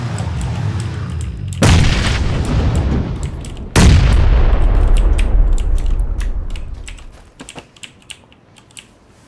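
Two loud grenade explosions in PUBG, each a sudden heavy boom with a long rumbling tail, followed by keyboard typing clicks as the noise fades.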